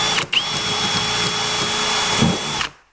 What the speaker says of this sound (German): Wenn ich aber jetzt so schräg hineinbohre,